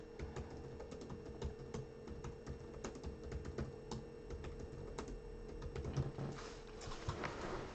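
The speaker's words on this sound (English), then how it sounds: "I was just typing away." A computer keyboard is typed on in quick uneven bursts of close, faint key clicks, with a steady low hum underneath.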